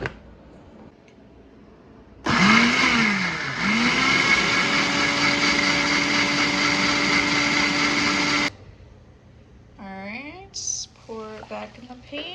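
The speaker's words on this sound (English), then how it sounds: "And we're gonna blend that up." A kitchen blender whirs loudly and steadily for about six seconds, pureeing a jalapeño and cilantro cream sauce, with a brief pitch dip as it spins up; a few quiet spoken words come before and after.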